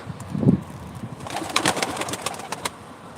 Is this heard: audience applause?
no